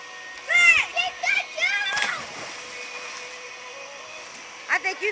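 A child splashes into a backyard pool, giving a short, close splash amid excited children's voices and shouting, with more splashing and chatter near the end.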